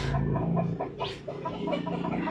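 Chickens at a poultry farm cluck and murmur continuously, several birds close by with overlapping calls and a brief higher squawk midway.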